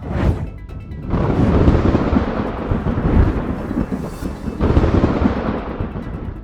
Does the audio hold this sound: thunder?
yes